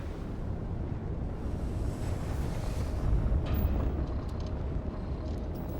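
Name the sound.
spaceship FTL drive spooling up and jumping in the video game Starfield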